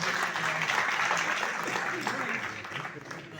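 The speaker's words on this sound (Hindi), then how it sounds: "इनके लिए भी तालियां हो जाए प्लीज" Audience applause at a press conference in a hall, a steady wash of clapping with some voices talking over it, easing slightly toward the end.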